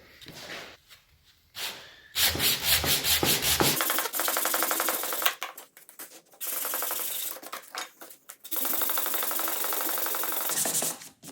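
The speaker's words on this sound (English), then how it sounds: "Now I'll just sand the outside edges of the rails everywhere, the moulding" Wooden sash window rails and moulding being sanded by hand, rapid scratchy rubbing strokes in bursts of a few seconds separated by short pauses, close and loud with no voices.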